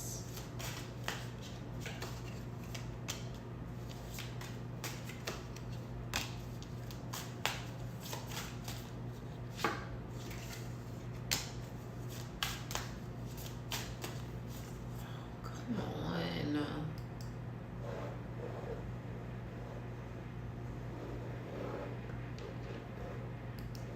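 Cards being shuffled repeatedly, with crisp riffling flicks and sharp snaps over a steady low hum, plus a brief murmur of voice midway.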